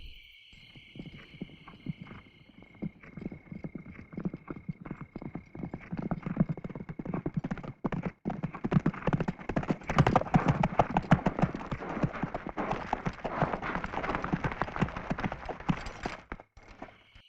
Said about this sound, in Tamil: நூற்றுக்கணக்கான குதிரைகள்.